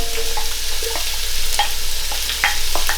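Onion frying in hot coconut oil for a south Indian beef curry, crackling steadily with scattered pops and spoon scrapes as it is stirred in the pan, close and clear with no talk.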